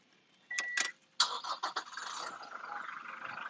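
A Toyota Innova Reborn 2.4 diesel is started with an ignition key: a couple of short cranking bursts, a brief pause, then the engine catches and settles into a steady, moderately loud idle with no talk.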